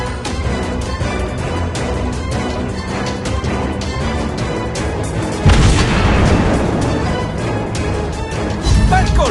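Warship gunfire and shell explosions striking a target in World of Warships Blitz, a Japanese Myoko cruiser in play: dense, loud booms over a steady rumble, with a heavy blast around the middle and another near the end.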